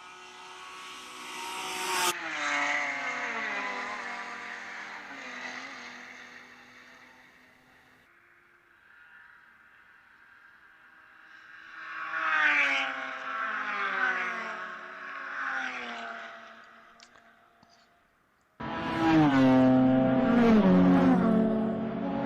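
Race cars at speed on the Ozarks International Raceway circuit during NASA Championship races, engines swelling loud as they pass close by, fading away, then returning with a sudden loud roar.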